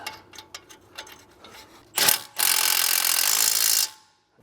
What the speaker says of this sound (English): I'm installing it with a new locking nut, which is generally the requirement